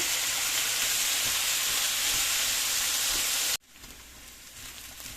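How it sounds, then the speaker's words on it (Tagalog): Ground pork fries loudly in a pan with vegetables, a dense close sizzle while being stirred, then cutting off abruptly to a much quieter hiss for the remaining moments. "Haluin natin siya."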